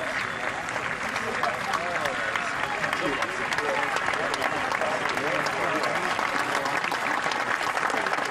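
Golf gallery applause rings around the 18th green at the final round of the Evian Championship, sustained and full. A commentator's voice runs over the clapping.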